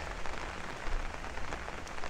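Steady rain pours down on a thunderstorm night in Bay Ridge, Brooklyn, a dense, continuous patter and hiss of drops on pavement and surfaces, fairly close and even throughout with no voices.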